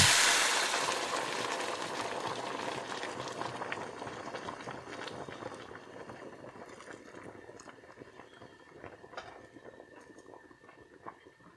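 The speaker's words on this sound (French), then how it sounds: "Je verse l'eau bouillante dans ma casserole." Boiling water poured into a saucepan for oxtail soup gives a bubbling, hissing splash that is loudest at the start and then slowly fades to a soft simmer, with a few small clinks near the end.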